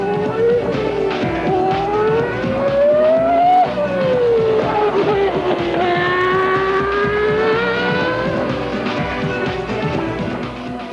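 A 1996 F1 race car, capable of about 200 mph and 0–60 in under 3 seconds, drives past with a high, whining engine note that climbs and falls through gear changes, loud and fairly close, with no talk.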